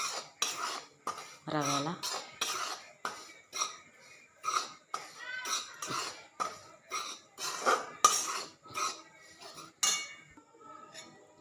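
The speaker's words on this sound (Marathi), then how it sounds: "परत थोडा वेळ अजून असंच ह्याला तेलात भाजून घेऊया" Semolina (rava) roasting in oil in a pan for upma, a metal spoon scraping and clinking against the pan in short repeated strokes, with someone talking over the stirring and a brief cough.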